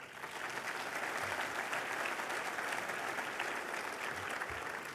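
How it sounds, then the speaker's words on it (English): Applause from a dinner audience at a Minnesota military affairs banquet, a dense, steady wash of many hands clapping that holds at an even level throughout, heard at a moderate distance with no talk over it. "Let's please give them all a round of applause."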